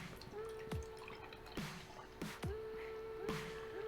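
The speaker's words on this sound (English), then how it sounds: "so I have to be really careful with the pour on this." Barrel-aged imperial stout is carefully poured from a bottle into a small nonic glass, making faint, quiet glugs and drips at irregular intervals, about four distinct splashes.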